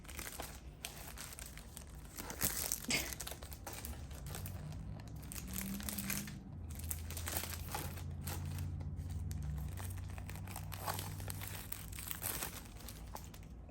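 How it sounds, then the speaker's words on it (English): Plastic packaging crinkles and crackles steadily at close range as a Play Arts Kai Final Fantasy VII Remake Cloud Strife Dress Ver figure is unboxed, with sharper tearing bursts at points and no talk. "There's a lot of plastic, as you can see."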